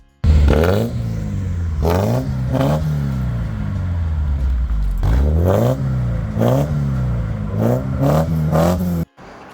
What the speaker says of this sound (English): After starting the car back up, it sounded like this.